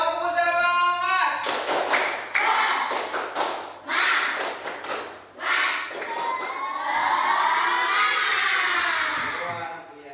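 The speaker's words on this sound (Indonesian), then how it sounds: "tepuk semangat" A classroom group claps in a patterned rhythm (a "tepuk semangat" spirit clap), then voices shout and cheer together in a loud, lively burst, like a classroom chant.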